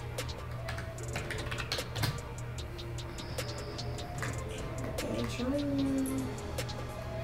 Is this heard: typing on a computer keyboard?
yes